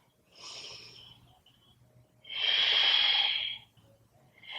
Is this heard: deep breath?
yes